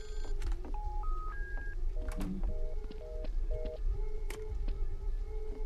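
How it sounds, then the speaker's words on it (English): In the Gmod game Neighbor's Nightmare, a phone-like electronic tone sequence plays: three rising stepped beeps, then four short repeated double tones, set against a steady hum and faint clicks and thumps. "It's a different type of ringing."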